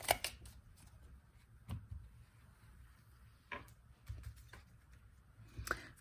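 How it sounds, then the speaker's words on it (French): Tarot cards are shuffled and drawn from a deck, soft irregular riffles and snaps close by, several brief bursts separated by quiet pauses. "Allez, on va tirer du coup les cartes."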